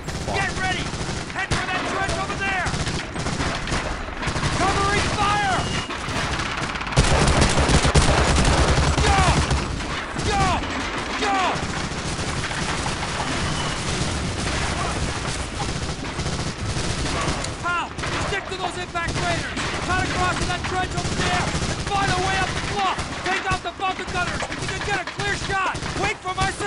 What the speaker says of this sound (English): Two MG-42s!